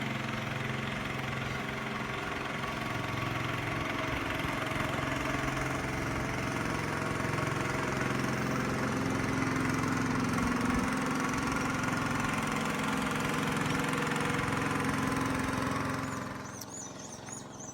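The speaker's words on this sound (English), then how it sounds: "A lot of motorboats there." Motorboat engines drone steadily and loud close by around island villages, a continuous mid-pitched motor rumble that thins out near the end.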